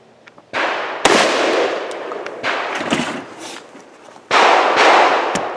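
Gunshots on the shooting range at Fairfax Rod and Gun Club: a handful of sharp, loud reports at irregular intervals, each with a ringing, echoing tail outdoors.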